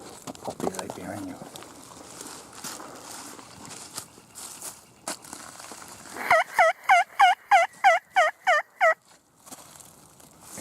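A wild turkey hen yelps in the woods in a quick run of about eight clear, evenly spaced calls. Quiet rustling and footsteps come first, with faint voices.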